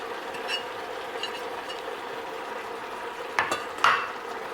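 Shrimp being stirred into fried cabbage in a pan: a low continuous sizzle with occasional scraping, then two sharper spatula scrapes near the end, close and alone.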